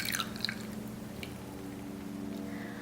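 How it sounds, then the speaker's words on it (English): Hot water poured over tamarind in a small mixing bowl, giving a steady close liquid wash with a few wet squishing drips and no talk. "just pour the water on top of the tamarind"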